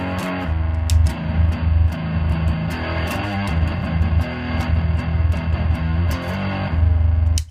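Electric guitar played through a frequency booster EQ pedal, with thick distorted chords and single notes ringing out loud and steady for several seconds, plus brief pick clicks.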